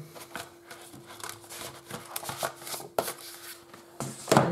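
A crinkly bag is handled during gift wrapping with paper crafts, giving close, irregular rustles and crackles of moderate loudness with no talk.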